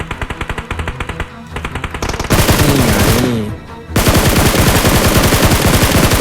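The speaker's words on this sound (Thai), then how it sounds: "เฮ้ยมีเสียงปืนข้างหลังเรา" Rapid bursts of automatic gunfire from behind the player in PUBG Mobile, loud and close, with repeated fast volleys and a short lull midway before dense firing resumes.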